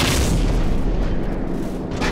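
A gunship cannon round explodes in a deep, heavy boom during the Death From Above mission of Call of Duty 4: Modern Warfare. The blast is loud and close and rolls on as a sustained rumble, with no talk over it.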